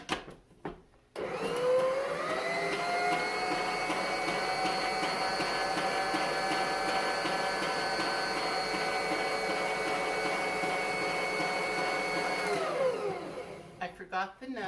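A mixer whirs through keto cookie dough in one long steady electric drone lasting about eleven seconds, starting and stopping cleanly, with brief handling clatter at each end.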